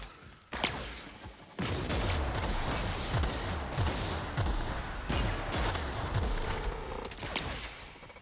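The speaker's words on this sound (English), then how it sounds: "I love this fucking grenade launcher." Rapid volleys of heavy grenade-launcher blasts and thumping explosions in a first-person shooter game, loud and continuous with dense overlapping booms after a brief quiet start.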